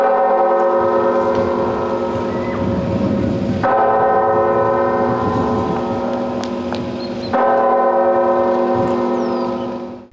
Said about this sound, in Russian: почтили память погибших минутой молчания, которую отсчитал главный колокол Георгиевского храма